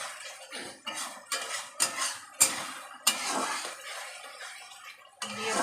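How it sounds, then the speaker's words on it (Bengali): A spoon stirs coriander into masala in a pan for a tilapia fish jhal, giving a series of close metallic scrapes and clinks in uneven strokes with short pauses between them. "দিয়ে ভালো করে কষাবো।"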